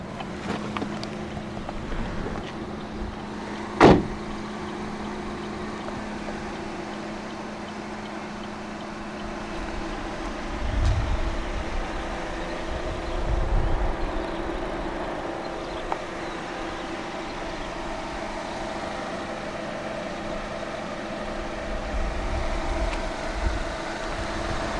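Idling 1.8-litre engine of a 2013 Chevrolet Orlando LT MPV, a steady low hum running throughout, with one sharp click near the start and a few soft low thumps later.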